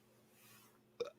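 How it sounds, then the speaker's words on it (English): A single short, faint burp pops out near the end of a quiet stretch, a brief throaty blip with a slight rough tail. "I just burped."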